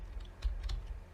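Typing a terminal command on a computer keyboard, heard as a short run of soft, close key clicks.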